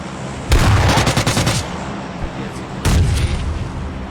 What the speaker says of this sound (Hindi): अरे शॉटगन डरा रहा है